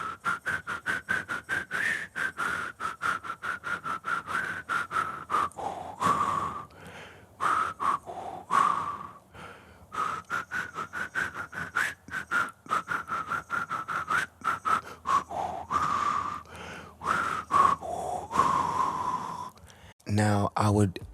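A breathy whisper-whistled melody drifts through a steady run of airy, hissing tones with soft pitch glides, punctuated by quick inhales between phrases, close and quiet, with a few louder breaths near the end.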